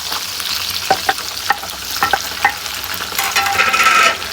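Onions sizzle in hot oil in a pan while being cooked for beef kosha, a steady close frying hiss broken by sharp clicks of a spoon stirring and scraping, with no voices.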